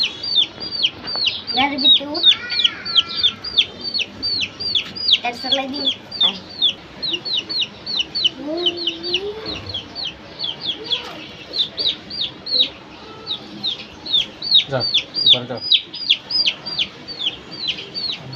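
A hen clucks repeatedly while her many chicks cheep in a constant high twittering chorus, close by on a veranda, with brief talking mixed in.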